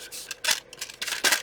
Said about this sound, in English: So I'm going to take a little bit of book page and cut